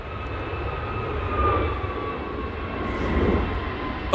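Passenger jet performing a go-around at Manchester Airport, a steady, fairly loud engine roar swelling and easing as it passes, heard alone without talk.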